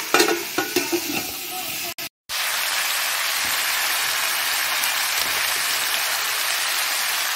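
Cauliflower and potato fry in a pan with a loud, steady sizzle after a few early clatters and a brief dropout.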